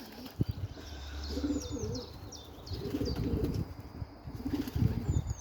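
Pigeons in a loft coo and rumble in repeated low bursts, close and clear, with higher chirps and a few wing flaps as they gather at the exit ready to fly out.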